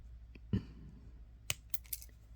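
Jewelry wire for a necklace being trimmed with cutters, one sharp snip followed by a few quieter clicks, close and isolated in a quiet room.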